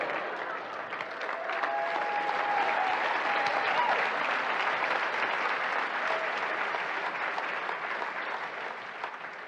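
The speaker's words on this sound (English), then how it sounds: "They're clapping for you." A large audience applauds steadily and fairly loudly for the whole stretch, a dense wash of clapping with no voices.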